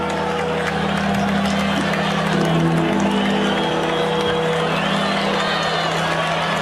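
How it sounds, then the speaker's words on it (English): A large crowd of Texas fans roars and cheers continuously in the distance at a 2023 Alabama v. Texas football game, a dense wash of voices with radio commentary over it. "Those are the Texas fans you hear in the background cheering"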